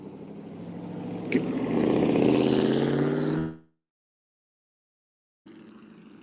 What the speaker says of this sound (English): They got a loud car passing me by.